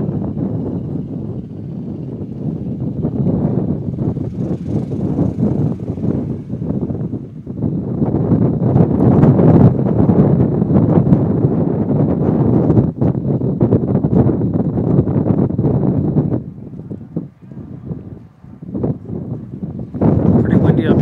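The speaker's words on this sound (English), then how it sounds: "It's windy. It's real windy up here." Strong wind buffeting an open microphone high up in the stands at a high school sophomore football game, a steady low rumbling roar that surges and dips throughout, with faint voices underneath.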